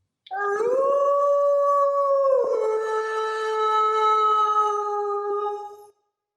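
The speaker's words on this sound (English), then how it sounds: "Dog howls back." A dog gives one long, loud, steady howl that bends slightly in pitch partway through and holds for about five seconds. Nothing else is heard and nobody speaks.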